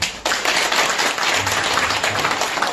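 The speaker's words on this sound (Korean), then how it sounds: "박수 한번 주세요" An audience at an English-language lecture claps on cue, a brisk burst of applause from a roomful of listeners that continues evenly for a few seconds.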